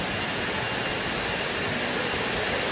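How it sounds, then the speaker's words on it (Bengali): A waterfall near the single-decker living root bridge in Meghalaya roars as a steady, broad rush of falling water, loud and unbroken throughout with no voices. "তোমরা ঝর্ণার আওয়াজটা শুনতে পাচ্ছ আশা করি"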